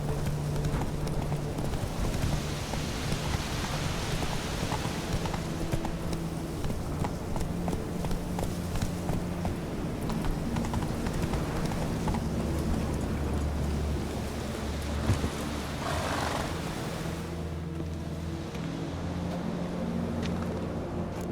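Roach, Geralt's horse in The Witcher 3: Wild Hunt, gallops in a steady run of hoofbeats, mixed with background game sounds and a few passing voices.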